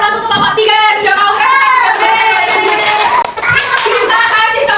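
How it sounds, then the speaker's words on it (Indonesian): A primary school classroom of sixth-graders claps for a student group, a loud dense patter of small hands running throughout while a voice and children talk over it. "Kita beri aplaus untuk kelompok 3 sudah mau"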